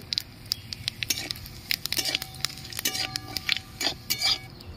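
Onion frying in oil with whole spices in a pan for a Bengali potol dalna, a steady low sizzle broken by frequent close scrapes and clinks of a spatula.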